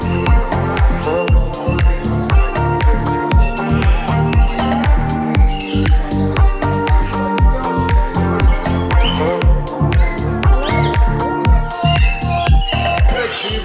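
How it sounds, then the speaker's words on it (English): A juvenile male red-tailed black cockatoo at a bird park gives loud, harsh squawks, repeated in a steady rapid series of rough calls very close by for the whole stretch, with no talking. "Juvenile male red-tailed black cockatoo."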